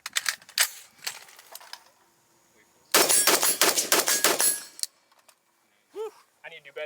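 Rapid gunfire from a Rosco Manufacturing gun on an outdoor range during a modified Navy qualification: sharp, loud shots in quick strings with brief pauses, plus a few faint metallic rings and short bits of talk.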